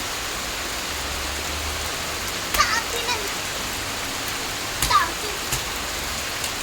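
Steady rain falls continuously as an even hiss, with a few louder nearby splashes and drips standing out briefly.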